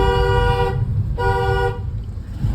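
Car horns honk repeatedly in heavy, jammed holiday traffic on an Indian road, two long close blasts separated by a short gap over a constant low engine rumble.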